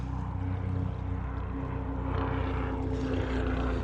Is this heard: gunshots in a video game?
no